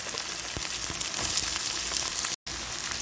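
Chopped onion sauteing on a high flame with garlic for beef mechado, a continuous loud sizzle with occasional stirring clicks, close up, with a brief dropout near the end.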